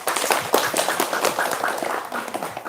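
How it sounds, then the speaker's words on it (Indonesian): Audience clapping hands in a dense, continuous burst of applause, fairly close and loud, with rapid overlapping claps throughout. "Tepuk tangan dong."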